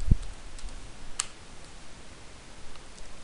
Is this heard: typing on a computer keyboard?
yes